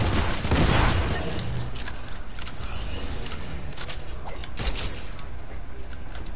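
Gunfire in a battle royale video game, rapid overlapping bursts of shots throughout, loud and close, with a heavier flurry at the start.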